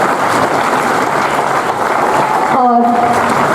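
Crowd applause at an Independence Day school ceremony, steady and sustained for several seconds, with a brief tonal voice or microphone sound near the end.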